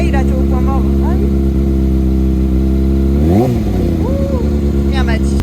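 A motorcycle engine idling in neutral at a racetrack rumbles steadily, then revs up in one sharp rise and falls back near the middle, with people talking over it.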